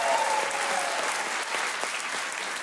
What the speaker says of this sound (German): Großen Applaus hier.